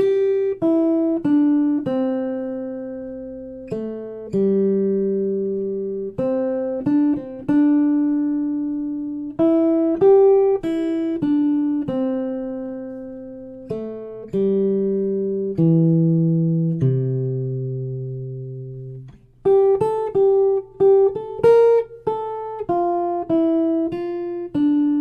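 Fingerstyle jazz guitar playing a 12-bar melody straight as written from a fake book; clean single notes and chord stabs over a sustained low bass tone, steady and close, with no talk.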